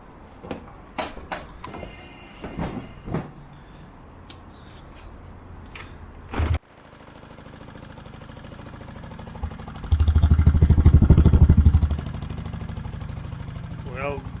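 A repaired old motorcycle engine is kicked and sputters to life, settling into a rough idle with a brief louder rev after clicks and handling noises, as a person talks.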